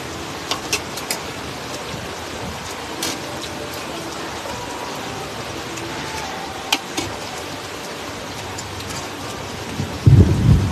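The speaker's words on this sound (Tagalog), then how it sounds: "Ulan pa more." Heavy rain pours steadily during an evening chicken barbecue dinner in Balingasag, with sharp crackles and brief thunder bursts, and a louder rumbling surge near the end.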